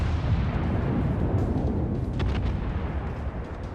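Naval gunfire in a World of Warships sea battle, heard as a heavy, sustained rumbling boom that fills the whole moment and slowly fades, with no talk over it.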